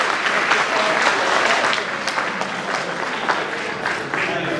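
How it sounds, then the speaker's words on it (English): Conference delegates at a regional deafblind education gathering clap for themselves, a loud, close, continuous patter of many hands with a few sharper individual claps standing out. "I request all our participants, all our delegates to clap for ourselves for making it up to here."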